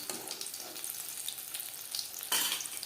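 Paneer frying in hot oil for a paneer pasinda recipe, a steady close crackling sizzle throughout, with the spitting getting a little louder and brighter near the end.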